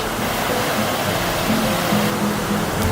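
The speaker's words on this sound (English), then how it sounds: "We're down by the creek." A wilderness creek flows nearby in a steady, loud rushing wash, constant throughout, with faint tonal murmurs within the water noise and no voices.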